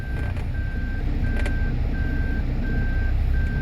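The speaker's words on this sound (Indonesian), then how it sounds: "Kalau kalian kebetulan punya sensor parking, ini sangat membantu, bisa dilihat." Car parking sensor reversing beeps: a steady series of evenly spaced, clear electronic tones over a loud rumbling engine and road noise while a car backs up.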